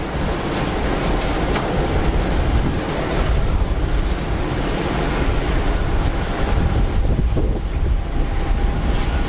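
Broadband, steady jet engine roar from an Air Dolomiti Embraer airliner, a Lufthansa sub-brand, at Geneva Airport, loud and sustained throughout with no voices.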